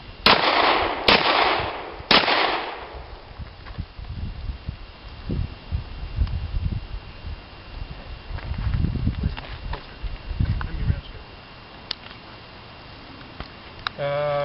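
Handgun shots fired at an IDPA shooting classifier stage, three loud sharp reports close together at the start, followed by quieter shuffling and movement noises.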